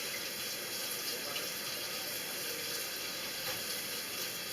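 Tap water runs steadily into a kitchen sink while a funnel is washed out, a continuous close hiss and splash holding even level throughout with no voices.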